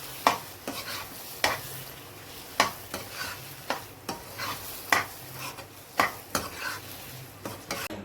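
Tomato puree cooking into a chole curry in a pan, with a soft steady sizzle under repeated spoon scrapes and stirring clinks in an irregular rhythm.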